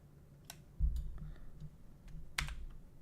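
A few sparse, close keyboard clicks and key taps on a computer keyboard, with a soft thump partway through and no talking.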